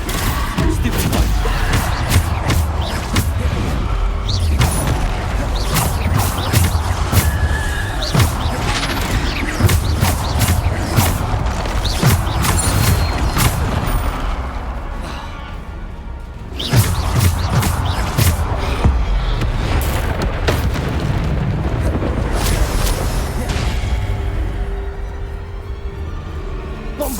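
Bombarda spell blasts boom and crash repeatedly in Hogwarts Legacy combat, a dense, loud barrage of impacts, thuds and effects with a brief lull midway, and a voice calls out spell names.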